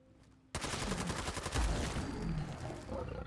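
Sustained burst of automatic fire from an RPD machine gun in Fallout 4, loud and close, starting abruptly after a brief quiet moment and rattling on steadily to the end.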